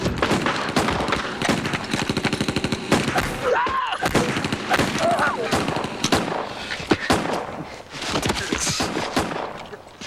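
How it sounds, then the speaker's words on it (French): Gunfire in a TV drama: rapid bursts of automatic shots and sharp single cracks with bullets striking a jeep, loud and close, broken by brief pauses, with voices shouting at times. "Comme vous l'entendez sûrement, le fusillade reprend, les balles récoltent sur la Jeep"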